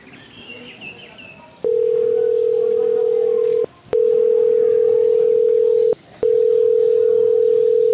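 Telephone ringing tone on an unanswered call: three long steady tone bursts separated by short gaps, loud and close, following a moment of faint background noise.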